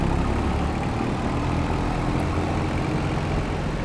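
A small ATV-like utility tractor in Farming Simulator 25 drives along, its engine giving a steady, continuous low drone at constant loudness with no talk over it.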